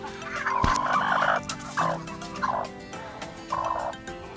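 A brooding native hen repeatedly gobbling and clucking in short bursts, close and fairly loud, with farmyard background noise.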